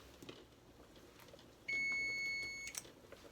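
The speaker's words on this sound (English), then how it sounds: "That's the sound of the beep." A kitchen timer gives a single sharp electronic beep lasting about a second, clear against quiet room background.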